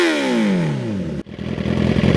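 A Suzuki superbike engine revs hard and close, its pitch sweeping down as it falls off, then it snaps back up into a rough, throbbing rev that builds again.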